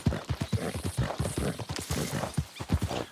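Horse hooves in Red Dead Redemption 2 beat a steady, close clip-clop rhythm at a trot or canter, with a faint whinny-like breath and no talk.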